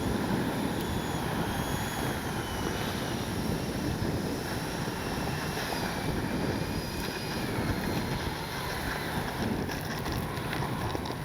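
An FMS 80mm F-86 radio-controlled electric jet flies with its air brake and landing flaps deployed. A steady, high ducted-fan whine carries on under constant outdoor wind noise, with no talking.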